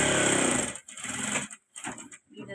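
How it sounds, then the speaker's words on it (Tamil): A sewing machine motor runs in short bursts while stitching bags, a close mechanical whir that starts and stops several times with brief silent gaps between runs. "மொடன் கேட்கும் பாருங்கள் சவுண்டு"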